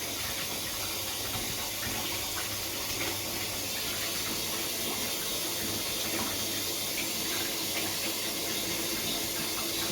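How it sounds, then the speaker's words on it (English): Cold water pours steadily from a household tap, a continuous rushing splash close by that stays even throughout, with no talking. "Let me just quickly turn on the cold tap, hang on."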